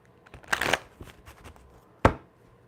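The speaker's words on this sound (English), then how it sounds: "Let me get a quick shuffle." Tarot cards are shuffled by hand in a few quick riffling bursts, close and crisp, with a sharp slap of the deck near the end and quiet gaps between.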